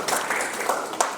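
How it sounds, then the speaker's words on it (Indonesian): Short burst of clapping from a lecture audience in an e-commerce class, a few scattered claps rising and fading within about a second. "beri tepuk tangan"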